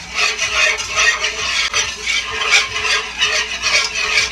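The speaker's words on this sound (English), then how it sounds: "Just keep stirring it." Chicken pot pie filling is stirred in a pot, giving rhythmic, fairly loud scraping and swishing strokes repeated every half second or so, with no talking.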